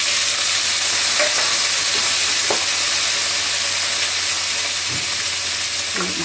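Onion, tomato, chillies, cashews and ginger fry in a pan with a loud, continuous sizzle, broken now and then by short scraping stirs close to the microphone.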